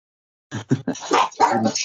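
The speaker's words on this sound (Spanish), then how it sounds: "Mira cómo ladra la bestia de rabia" A dog barks angrily in a quick burst of several loud, rough barks and growly yelps that run together close by after a moment of silence.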